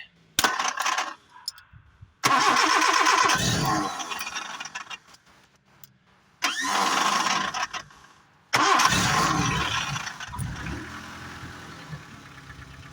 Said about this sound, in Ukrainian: Отако зараз попробуємо її завести.